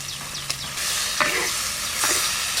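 A fish head drops into hot oil in a pan of greens being cooked with chillies, giving a sharp spit and then a loud, steady sizzle, with a few stirring scrapes close by and no voices.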